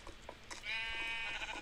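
A Minecraft sheep lets out a single wavering bleat, clear and fairly close, after a few soft game sounds.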